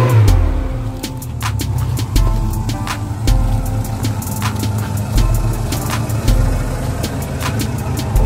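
An off-road vehicle stuck in mud on a forest trail, its engine revving loudly in repeated surges that rise and fall, close and continuous, with no talking.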